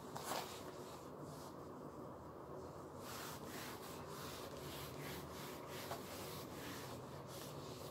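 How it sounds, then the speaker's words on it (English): A dirty classroom board is rubbed clean with steady back-and-forth scrubbing strokes, soft and fairly close, with no talking. "Board is becoming very dirty. Let me rub the board."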